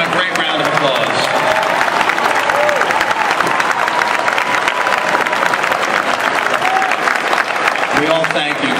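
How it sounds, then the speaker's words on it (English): A graduation audience gives a long, full round of applause with some crowd noise, continuous and loud throughout, with voices briefly audible at the beginning and end. "Let's give them a great round of applause."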